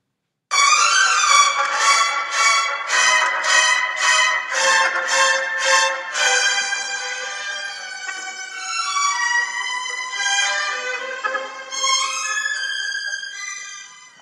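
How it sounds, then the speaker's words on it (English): A solo violin plays a clear bright line: a run of evenly spaced detached notes, then smoother sustained notes with vibrato, moderately loud and close, with no talking. "So our highest voice would be the violin"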